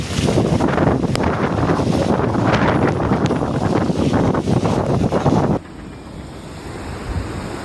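A river swollen by recent rains rushes past in a loud, steady roar with wind buffeting the microphone, then drops to a softer, more distant wash for the final couple of seconds.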